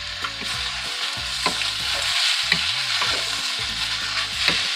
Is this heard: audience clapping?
no